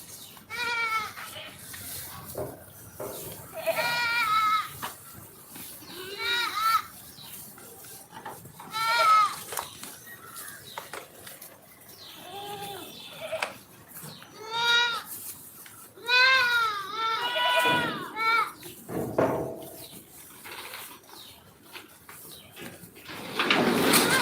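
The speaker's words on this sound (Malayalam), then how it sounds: "ഇനി ഇവർ വെള്ളം കുടിക്കുന്നതാണ് ആടുകൾ" Goats on a small Kerala farm bleat repeatedly at close range while drinking water, several overlapping calls rising and falling across the stretch, with light clatter in the background.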